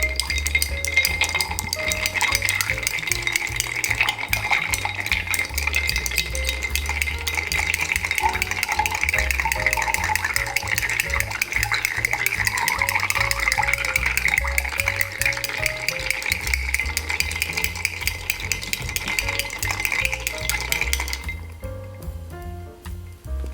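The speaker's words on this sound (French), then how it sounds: "vu que c'est un verre à mélange, on le mélange bien à la cuillère" A spoon stirs a rum cocktail dosed with bitters in a mixing glass, with steady close clinking and swirling throughout, set against a continuous low background hum that cuts off near the end.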